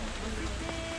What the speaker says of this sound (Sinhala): ඉතින් වහිනින්ද අපි පොඩ්ඩක් නවත්තලා ඉන්නේ